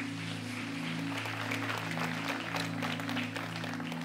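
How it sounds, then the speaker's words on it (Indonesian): Congregation applauding during a church service, a steady, even wash of clapping with a low electrical hum running underneath. "Berikan tepuk tangan kita untuk Tuhan kita."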